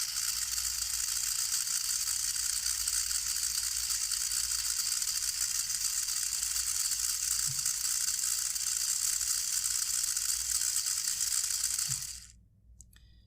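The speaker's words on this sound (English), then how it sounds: "If we send G character, then motor will start." Small DC motor running under computer speed control, a steady close whirring hum held for about twelve seconds before winding down and stopping near the end.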